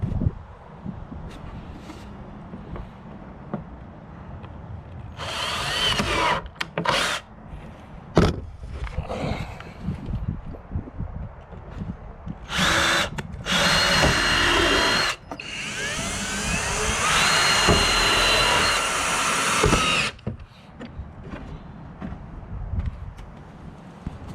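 A power drill runs in several bursts, some brief and one long sustained whir, with knocks and handling noises in the gaps between.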